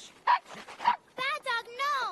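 Cartoon dog barking and yipping in a few bright, tonal bursts, the first half mixed with animated character voices and the later barks sounding more clearly on their own.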